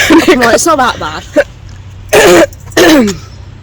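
A woman walking uphill home with a small child on a winter morning gives a few harsh throat-clearing coughs in two loud bursts, after some earlier talk.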